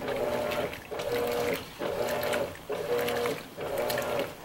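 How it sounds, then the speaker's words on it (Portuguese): Degreaser poured into the water of a top-load Electrolux Premium Care 13 kg washing machine while it fills for a towel wash, giving a steady close gushing of water broken by short pauses and surges. "Vou despejar direto na água, tá bom?"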